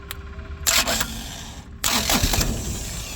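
A Skyjack scissor lift's starter cranks its engine in two separate bursts, each a loud, rough mechanical whirring lasting about a second, separated by a short silence.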